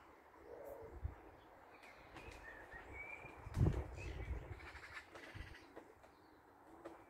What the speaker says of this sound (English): And got some pigeons, oh naughty pigeons.